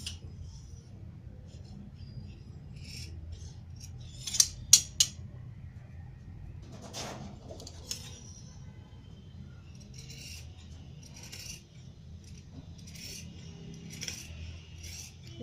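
Scissors cut fabric for a pair of pajamas, with soft scattered snips and rustles along the cloth outline over a low background hum, plus a few sharper clicks in the middle.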